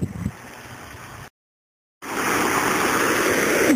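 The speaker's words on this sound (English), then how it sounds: "this waterfall, man-made waterfall, with rapids" Man-made waterfall with rapids beside a trail, a steady broadband rush of falling water heard up close, broken by a brief gap of silence before the loud, continuous roar resumes.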